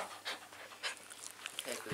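A dog pants close by in quick rhythmic breathy bursts, soft and airy, with occasional light movement noises and no clear talking.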